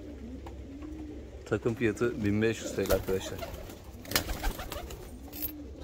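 Young blue almond balloon pigeons coo in low, rolling bursts close by, largely under someone talking steadily over them.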